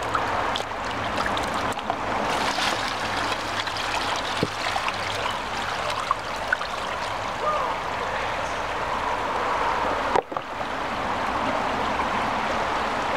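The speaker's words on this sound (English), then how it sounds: "take all the contents of the white tub, swirl it to make sure all those contents get into the subsampling tray" Continuous watery swishing and trickling as stream water with invertebrate samples is swirled in a white tub, steady and moderately loud throughout, with a brief knock near the end.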